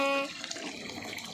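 Water runs into a bucket from a tap, a soft steady splashing and gurgle at close range after a brief tonal sound at the start.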